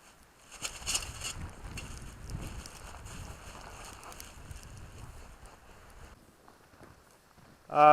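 Steady wind buffets the microphone at a cold campsite, a low rumbling gust that rises and falls before dying away near the end, with no voices.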